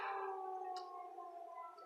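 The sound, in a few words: siren going off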